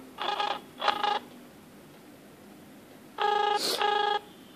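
A phone rings while calling a GSM module in a wireless vital-signs monitor demo: two separate bursts of a buzzing, tonal ring pattern, each about a second long, separated by a quiet pause.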